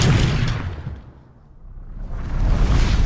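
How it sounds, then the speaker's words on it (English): A slow-motion whoosh sound effect, loud and broad at first, dipping into a hushed, filtered low trough mid-way, then swelling back to full strength at the end, with no talk. "Whooshes come in all different shapes and sizes,"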